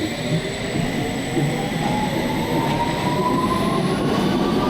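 A London Underground train sits at a platform, giving off a steady loud rumble with a faint rising whine, and no voices are heard.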